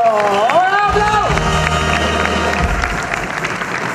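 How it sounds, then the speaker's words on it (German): Audience applause and cheering at a Cologne carnival costume session, a dense crowd noise with music-like tones and voices mixed in, loud and continuous throughout. "Euer Applaus."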